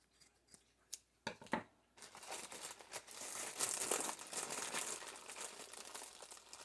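Scissors snip through dollar-store socks while making sock gnomes, a few crisp separate cuts at first, then a steady run of close crinkling fabric and rustling handling noise.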